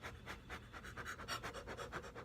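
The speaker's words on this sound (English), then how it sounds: "I'm practicing my breathing for whenever I have my baby." A pregnant woman practicing labor breathing, with quick, rhythmic panting breaths in a steady series of about a dozen short huffs, close and soft with no talk.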